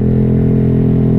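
A Honda Vario scooter exhaust gives a steady, loud, close idle drone with a fast, even low throb, its sound said to have started changing.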